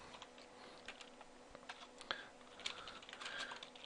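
Quiet, close keystrokes on a computer keyboard clatter in irregular bursts as someone types code, with no talking over the soft clicking.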